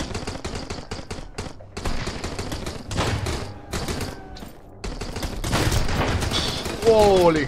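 Shotgun blasts in the survival game Sunkenland, a rapid series of loud, sharp gunshots in bursts separated by brief pauses, with a faint voice in places and a rising electronic whine near the end.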